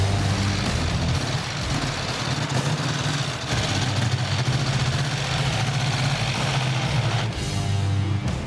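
A Vincent Black Shadow motorcycle engine runs close by with a continuous deep, throbbing idle and a steady low hum, slightly shifting in tone near the end.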